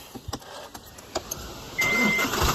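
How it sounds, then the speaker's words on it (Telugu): A 2019 MG Hector Sharp started with its push start button: a few faint clicks, then the engine cranks and catches in a single try, settling into a steady idle up close. "ఈ కార్ని స్టార్ట్ చేయాలంటే పుష్ స్టార్ట్ బటన్తో స్టార్ట్ చేయాల్సి ఉంటుంది"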